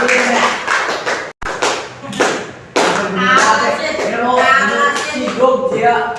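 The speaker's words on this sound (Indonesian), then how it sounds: "Tepuk tangan semuanya" A classroom group claps, with scattered taps and thumps mixed with voices and chatter, the clapping loud and close but uneven across the clip.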